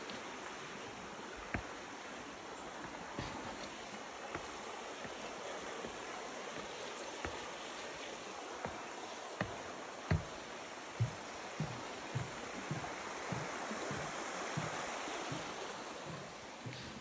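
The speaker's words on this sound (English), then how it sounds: "we got a stream, lovely stream down here" A stream flows along a trail near a horse camp at Big South Fork, a soft, steady wash of moving water heard from a little distance, with scattered footsteps or light knocks over it and no talking.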